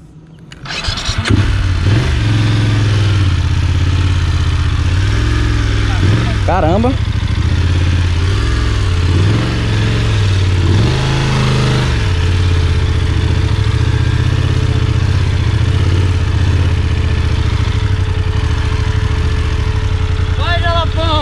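A motorcycle engine starts and runs loud and steady nearby on a sandy trail in Jalapão, Brazil, with brief revs, while someone shouts and talks over it in Portuguese.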